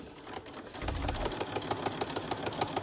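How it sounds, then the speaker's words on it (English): A sewing machine runs steadily up close while back stitching on a zipper pouch, its needle thumping in a quick, even mechanical rhythm over a low motor hum. "Okay, so I'm going to back stitch."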